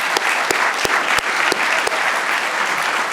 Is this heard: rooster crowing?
no